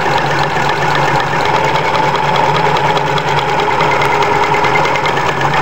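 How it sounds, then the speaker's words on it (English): Sewing machine running a zigzag stitch in reverse while repairing sofa upholstery, a steady, loud, close mechanical hum with a continuous rapid needle chatter throughout. "this machine does a zigzag stitch"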